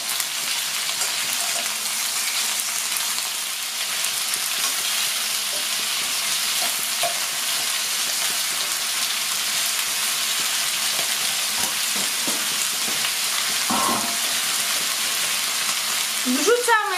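Pork ribs fry in a pot with a steady, dense sizzle that runs unbroken throughout, with occasional faint clinks of stirring or turning the meat.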